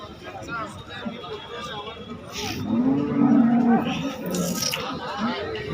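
A cow moos at a cattle market in Sangola, a low, drawn-out call rising out of the crowd noise at mid-clip while people talk nearby.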